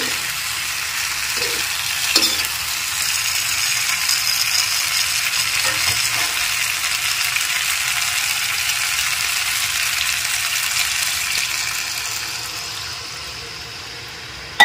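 Water poured into a pan of simmering rohu fish curry with winter vegetables and bori sets off a loud, steady frying hiss with stirring, gradually fading and softening toward the end.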